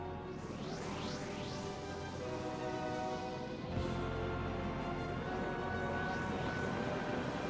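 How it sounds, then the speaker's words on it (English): Thunderbird 2 craft from the Thunderbirds 2086 cartoon fires its engine for liftoff: a steady, loud jet-like roar with rising whines sweeping upward, then a deeper surge as thrust builds, all without talk. "The Guardian loaner craft is loaded and ready for liftoff."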